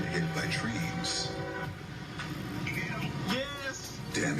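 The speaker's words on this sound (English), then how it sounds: "this is a truck. It's about to get hit by a train." Train-crash audio from an NFL Films-style segment: a horn or whistle and rumbling rail noise as a train bears down on a truck, mixed with voices talking over the top.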